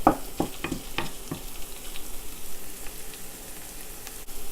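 Dried chilies sizzle in hot oil in a wok for Szechuan eggplant, a steady close crackle punctuated by several sharp stirring scrapes early on and a clack near the end.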